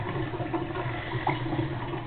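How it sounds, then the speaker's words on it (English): Water splashes and sloshes in a bath, a continuous run of small watery splashes and gurgles, fairly close, with no voices. "Give yourself a good splash."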